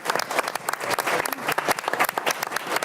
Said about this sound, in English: Let's a round of applause for the staff.